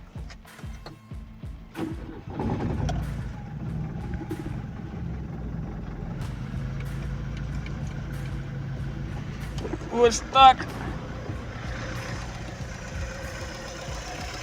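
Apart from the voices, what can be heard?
car engine idling, running on gas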